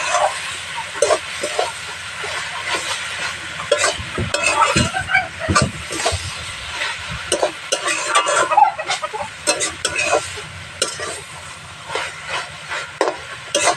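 Elephant foot yam stems with prawns and mustard paste frying and being stirred in a pan, close sizzling broken by repeated scraping and clattering of the spatula.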